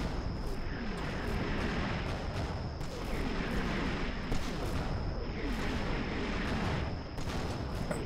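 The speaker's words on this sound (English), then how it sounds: "Here comes the second wave of the barrage." Artillery barrage in the game Combat Mission: Red Thunder, a steady rumbling roar of distant shelling that rolls in overlapping waves, with occasional sharper crumps rising from the din.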